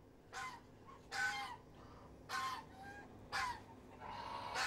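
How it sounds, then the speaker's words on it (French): Geese, a flock of traditional white geese and orange-billed Toulouse geese, honk in four or five separate loud calls with short pauses between them, close by and with no talk. "Il y a les becs oranges qui sont des oies de Toulouse"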